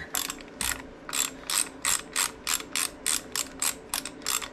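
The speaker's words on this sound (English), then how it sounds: "Get your ratchet to work properly. Break that bolt free." A ratchet turning a quarter-inch Allen socket to loosen a bolt on a Sportster, giving a close, loud run of about a dozen quick clicking bursts in a steady rhythm, with no voices.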